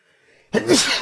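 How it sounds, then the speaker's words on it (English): A single loud, sudden sneeze right up close, preceded by a quiet breathy intake. "Ooh, I had to sneeze."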